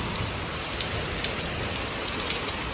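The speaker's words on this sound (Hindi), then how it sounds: "बारिश तेज़ हो रही है।" Heavy rain pours down in a dense, steady hiss, with scattered louder drops pattering on nearby surfaces and no voices.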